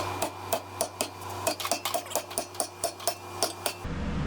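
A hammer pounds steel parts, some made of half-inch plate, off farm equipment. Sharp metallic blows land in a quick, fairly regular series, close and loud over a steady low hum, and nobody speaks.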